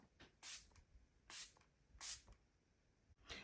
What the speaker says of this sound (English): So let's give this makeup a final spray.